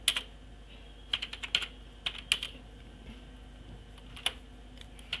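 Fingers typing an email on a computer keyboard, scattered quick key clicks in short bursts with brief pauses, close and fairly quiet over a faint room hum, no voices.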